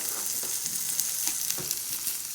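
Blanched lemon bits with a pinch of sugar and salt fry and caramelize in a pan, giving a steady, close crackling sizzle with small pops and no voices.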